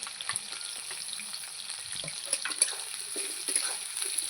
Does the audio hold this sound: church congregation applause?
no